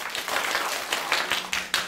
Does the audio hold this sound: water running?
no